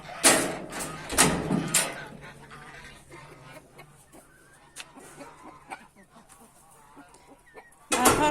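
Chickens cluck and squawk nearby on a farm by the barn, several loud calls at the start and end with quieter clucking and rustling in between.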